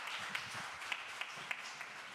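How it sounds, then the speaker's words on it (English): An audience at a Sunday church service gives a round of applause, a soft, steady patter of many hands clapping at a distance, with a few sharper individual claps standing out. "can we give a round of applause and thank you to Lucy and Leela"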